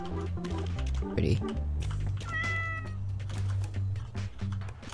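A cat in the Goat Simulator video game meows a few times over game sounds and clicking, while a person talks over it.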